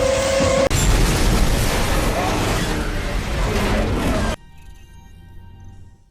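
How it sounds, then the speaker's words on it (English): A giant explosion sound effect: a loud, sustained roaring blast that runs about four seconds and then cuts off abruptly to a quiet background. "Die Hard would have happened with a giant explosion."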